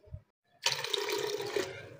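Water poured into a pot of whole masoor lentils for dal chawal, a steady splashing gush starting after a short pause and running about a second, close and fairly loud.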